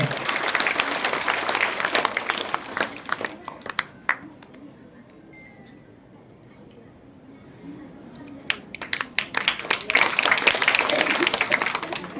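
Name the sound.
loud applause from the audience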